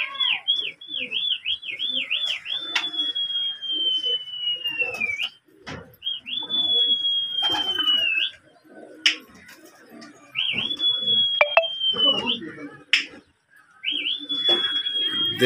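A flock of about 200 to 250 fancy coloured pigeons flips and circles overhead in Dera Ismail Khan. Repeated bright whistling tones rise and glide amid scattered chirps, with someone talking throughout.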